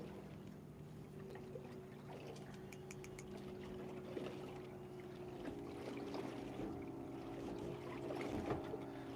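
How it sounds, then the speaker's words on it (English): A passing boat churns the water, leaving a low steady engine drone and sloshing waves lapping close by at a moderate level for several seconds. "that boat put off some big waves"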